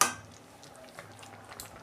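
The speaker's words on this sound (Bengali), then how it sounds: "আমি 2 মিনিট একটু নেড়ে চেড়ে ঢাকা দিয়ে দেবো।" Bottle gourd greens are stirred in a pan with a spoon, opening with a sharp metallic clink and followed by soft scraping and a low sizzle, close and quiet.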